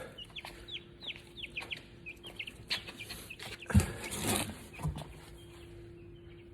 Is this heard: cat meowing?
no